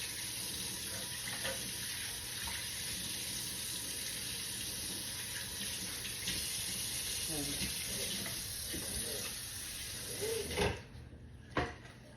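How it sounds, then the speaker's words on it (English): Hands are washed under a running kitchen tap after cooking meatloaf: a steady hiss of water flows throughout, then a couple of louder splashes and knocks near the end. "Wash my hands really well."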